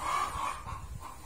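Chickens on a Vietnamese farm beside a newly built feeding trough give soft clucking calls over low background rumble, close by and fairly quiet.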